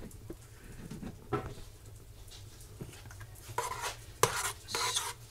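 Leftover roast chicken and vegetable soup stirred in a pot on a stovetop burner, with a spoon scraping and clinking at an uneven pace, a few sharp knocks and louder bursts near the end, close up.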